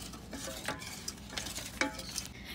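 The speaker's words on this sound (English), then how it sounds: "stir continuously so it doesn't stick on the bottom" A spoon stirs Moroccan flan mixture in a pot on a stove, giving soft repeated scraping strokes against the bottom with light clinks, quiet and close with no talking.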